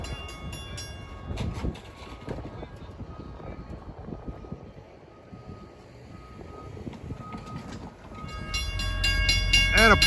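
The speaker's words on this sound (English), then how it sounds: "approaching at 412 is train 656. Blasting through from Hunters Point Avenue to Port Jefferson with a nice K5 LLA horn to boot" Long Island Rail Road train 656, bound from Hunters Point Avenue to Port Jefferson, approaches the New Hyde Park Road grade crossing amid rumbling rail noise and ringing crossing bells, then sounds a loud, close K5LA horn blast at the end.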